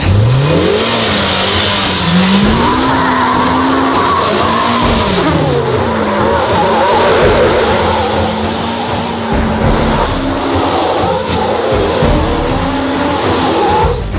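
A Polaris RZR side-by-side skids hard, its tires squealing in long wavering whines over a loud, continuous engine roar, close and unbroken throughout.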